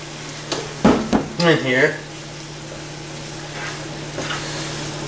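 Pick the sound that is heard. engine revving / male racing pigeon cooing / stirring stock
stirring stock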